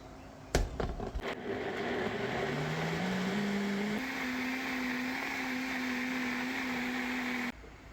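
A blender whips winter squash into smoothies: a brief clatter, then a steady whirring motor whose pitch steps upward, holding loud and even for several seconds before cutting off abruptly, with no talking.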